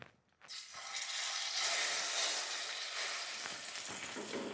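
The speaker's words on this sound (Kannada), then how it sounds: "ಸ್ವಲ್ಪ ಎಣ್ಣೆನ ಹಾಕಿ ಒಂದೊಂದೇ ಬದನೆಕಾಯಿನ ಹಾಕಿ ನೀಟಾಗಿ ಫ್ರೈ ಮಾಡೋಣ" Eggplant slices drop into hot oil in a pan and fry with a steady, close sizzle and hiss that swells after a short quiet start, with faint scraping and clinks underneath.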